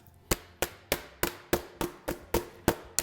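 Nine sharp, evenly spaced taps on the underside of a metal macaron baking sheet, close and crisp, with a steady rhythm and short ringing decay.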